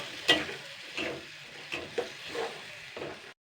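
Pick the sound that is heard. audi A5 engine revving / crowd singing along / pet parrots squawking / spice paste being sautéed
spice paste being sautéed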